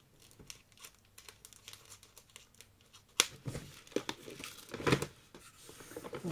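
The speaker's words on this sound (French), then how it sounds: "Je vais essayer de vous enlever le plastique pour que vous puissiez le voir." Plastic packaging wrap being pulled off and cut away from a newly bought item, giving irregular crinkling, tearing and snipping bursts at close range, faint at first and then louder and busier, with no talking.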